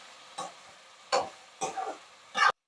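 Tomatoes sautéing in a pan with turmeric and rock salt, heard as four short, faint bursts of stirring and sizzling separated by near-silence, the last one the loudest.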